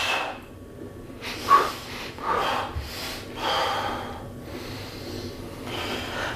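Heavy, forceful breathing during a Ryabko System breathing workout: several sharp, snorting breaths and gasps, close to the microphone and spaced unevenly, with no talk over them.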